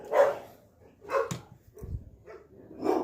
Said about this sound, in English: Sorry if you hear dogs barking.